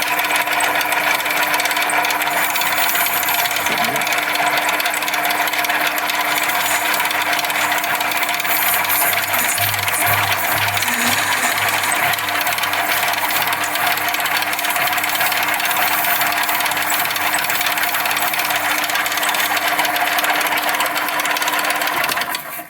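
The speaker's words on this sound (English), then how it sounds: "I'm just boring this to size. So I'll just turn this on a sec, and I'll just show you it cutting." A lathe boring plastic washers to size runs with a steady mechanical hum and faint whine for the whole stretch, constant in level with slight cutting fluctuations in the middle.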